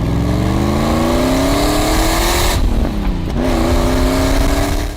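A 1980s Holden Commodore with a 5-litre V8 revs loud and close, its engine note climbing steadily, dipping briefly and rising again in a continuous throaty roar.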